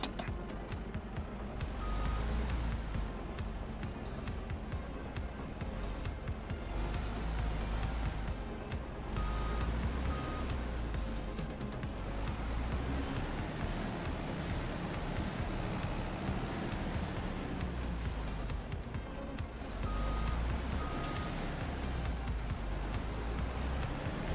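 A truck in the Farming Simulator 25 video game sounds repeated reversing beeps at steady intervals over a continuous engine rumble throughout.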